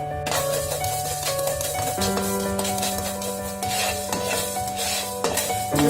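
Spices such as mustard seeds dry-roasting in a pan for chicken sukka, with a continuous gritty rattle and scrape of stirring against the metal and a faint background tone, close and steady throughout.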